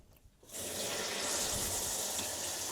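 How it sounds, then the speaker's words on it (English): An RV shower turns on after a brief quiet moment and then runs in a steady, loud rush of spraying water. "now I'm gonna go test the shower"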